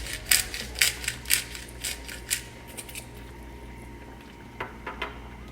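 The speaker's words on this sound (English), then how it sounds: "Then we're gonna add in a few cracks of black pepper." A pepper grinder cracks black pepper in a series of close, crisp ratcheting grinds, a quick rhythmic burst followed after a pause by a few more twists.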